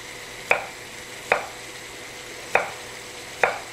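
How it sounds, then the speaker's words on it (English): A knife slicing an onion very thinly on a cutting board, four crisp separate chops spaced unevenly about a second apart, close and clear over quiet room tone. "So with the onion, I'm just going to slice it"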